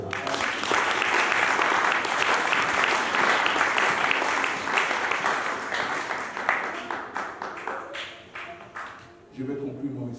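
A church congregation applauds loudly and steadily during a sermon, the dense clapping carrying on for most of the stretch before thinning out and tapering toward the end, with voices mixed in.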